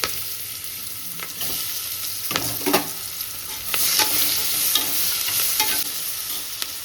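Onions, with mustard seeds and cloves, fry in a pan for chicken biryani while a spoon stirs them, giving a loud close sizzle broken by distinct scraping strokes, without voices.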